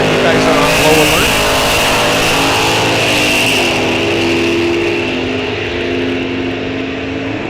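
Drag racing cars on qualifying passes at an NHRA National Open, engines roaring loudly with rising and falling pitch as they launch and pull away, the noise fading slightly toward the end.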